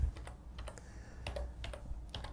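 Quiet, irregular clicking of keys as text is typed on a computer keyboard, a soft burst of keystrokes with short pauses between them.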